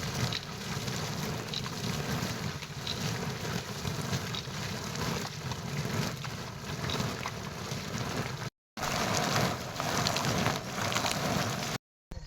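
Unseasonal rain falls on soaked harvested grain heaped outdoors, a dense, even hiss of heavy rainfall heard close, with two very short breaks of silence near the end.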